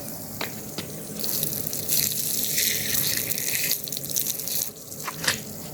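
Rainwater gushes into a tower building, a loud, steady rush of flowing water like an open tap, with occasional drips and splashes and no voices.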